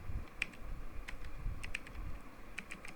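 Fast, close keystrokes on a computer keyboard as CSS border code is typed, with crisp clicks in irregular bursts over a quiet room hum and no talking.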